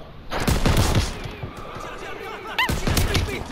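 Gunfire in the World War II shooter Call of Duty WWII, several bursts of shots at the start and again near the end, with a game voice and a chirping effect in between.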